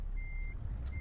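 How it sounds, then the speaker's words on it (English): A truck's reversing alarm emits a steady high beep, one long tone and the start of another, over low engine rumble close by. "Yes, I know my truck is still beeping."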